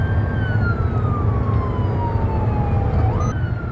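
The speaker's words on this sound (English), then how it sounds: "There's our ambulance." An ambulance siren wails in a long, slowly falling tone over steady road rumble, then briefly jumps back up in pitch.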